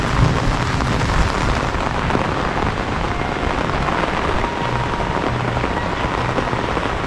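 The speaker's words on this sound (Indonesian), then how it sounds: "Hujan yang sangat deras disertai gemuruh guntur." Heavy rain pours steadily over rice fields in the countryside, a dense, constant hiss that stays loud throughout, with low rumbling thunder rolling underneath; no one speaks.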